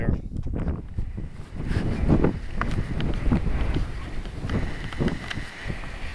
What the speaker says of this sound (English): That's the southwest wind coming out right now.